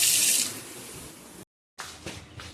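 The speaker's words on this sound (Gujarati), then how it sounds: "તો પાઇપ ફિટ કરીને પાણી ચોખ્ખા થઈ જાય છે" Water gushes from a newly fitted pipe in a steady, hissing splash that cuts out briefly and then resumes.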